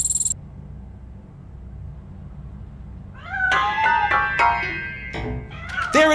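A cat in Robocop: Rogue City meows several times, short rising and falling cries in the second half after a quiet low hum, fairly close and clear.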